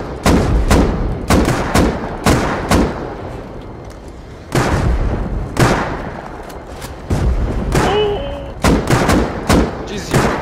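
Loud, close blasts of rocket explosions and gunfire from the survival game Rust, a series of heavy booming hits spaced a second or so apart, each trailing off into rumbling echo, with excited voices talking between them.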